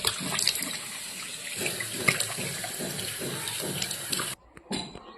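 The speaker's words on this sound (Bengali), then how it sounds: "এবার এটাকে ভালো করে জল দিয়ে ধুয়ে নেবো।" Water runs steadily from a tap for several seconds, splashing close by as a face is rinsed clean after a dried face pack, then it cuts off abruptly, leaving a few brief drips and splashes.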